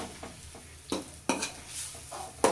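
A spoon stirs and scrapes vada pav potato filling in a pan, giving a few distinct scrapes and clacks at irregular intervals over a quiet background.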